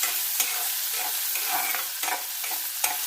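Ginger pieces frying in a small amount of oil, a steady close crackling sizzle with occasional stirring scrapes and clicks throughout, no voices.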